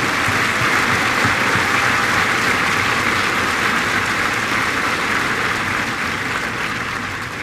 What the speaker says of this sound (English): please join me in a round of applause for the families of Kilo